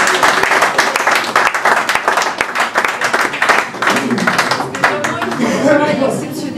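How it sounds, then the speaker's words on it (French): An audience applauds during a participatory democracy vote event, steady crowd clapping with dense, fast overlapping claps close by, and a voice speaking over it toward the end. "Donc je pense que vous pouvez encore les applaudir"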